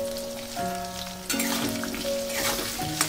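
Diced potatoes fry with salt in hot oil, giving a steady close sizzle with faint crackles throughout, while a low tonal hum shifts pitch in the background.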